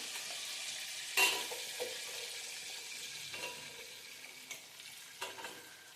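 Onions for a biryani go into a hot pan, giving a faint steady frying sizzle with a few soft spoon clinks and stirring scrapes, no voices.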